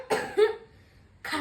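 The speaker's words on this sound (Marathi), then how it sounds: "गाताना सारखा खोकला काढतो मी." A performer in a one-person children's play coughs twice, close and loud, with a short rough throaty rasp in between and brief silence separating the bursts.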